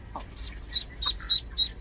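A backyard flock of chickens, including a rooster, gives a few soft, short clucks at an irregular rhythm, close and fairly quiet against low background noise.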